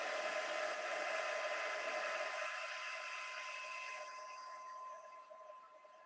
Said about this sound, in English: I'll hit that with the heat again.